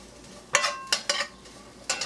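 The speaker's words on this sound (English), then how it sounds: "I've been sauteing this for about 2 minutes" Sausages and peppers sautéing in a pan, a soft steady sizzle broken by four sharp scrapes and clatters of a utensil stirring against the pan.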